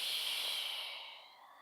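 Slow, full exhalation through the mouth in a yoga breathing exercise, a soft airy rush heard up close that tapers off steadily to quiet, with no voices.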